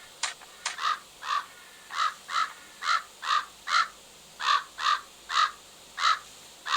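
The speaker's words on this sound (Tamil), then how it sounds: "இப்போ இந்த காக்கா இப்போ என்ன சொல்லுதுன்னா" A crow in a Tamil-language pumpkin farming video game caws repeatedly, a dozen or so evenly spaced harsh calls that are clear and moderately loud, with no talking.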